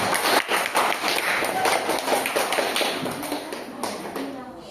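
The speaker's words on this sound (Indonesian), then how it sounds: "Tepuk tangan untuk kelompok 1." A classroom of students clapping for a presenting group, a dense, loud burst of applause that fades slightly toward the end, with voices mixed in.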